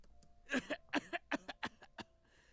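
A rapid series of about eight harsh coughs in a quick fit, close and fairly loud, then fading into quiet.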